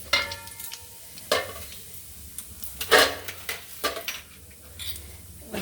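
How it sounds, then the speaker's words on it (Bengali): Whole cumin seeds crackle in hot oil left from frying pointed gourd, a soft sizzle punctuated by several sharp scrapes and clinks of a spoon stirring in the pan. "ওই একই তেলে, পটল ভাজা তেলে আমি দিয়ে দিচ্ছি গোটা জিরে"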